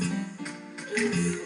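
Synthesized choir-like vocal "ooh" tones from the Technics KN-7000 arranger keyboard's Hip Vocals sound, a few short sustained chords shifting in pitch, clear and fairly loud with no talking.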